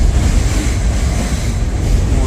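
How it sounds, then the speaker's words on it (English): Train rumbling overhead on an elevated line in Melbourne near Flinders Street, heard from street level as a steady, loud low roar with wind-like noise throughout, no clear speech. "it's a little bit noisy with this train coming up overhead."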